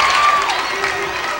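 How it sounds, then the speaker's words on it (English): A high school basketball crowd cheers and applauds after a coast-to-coast play, a steady roar with a whistle tone, while a commentator talks over it. "Morgan Lewis absolutely igniting the crowd"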